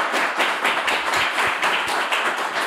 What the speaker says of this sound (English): If I could, a quick round of applause for the panel members.